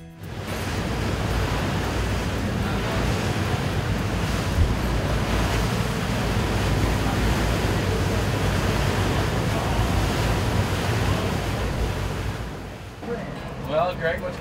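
Rough wind and waves on a lake shore in northern Michigan make a constant, loud, close roar of surf, with gusts buffeting the microphone throughout and the noise easing slightly near the end.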